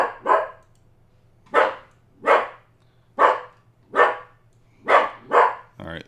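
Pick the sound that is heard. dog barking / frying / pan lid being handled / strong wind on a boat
dog barking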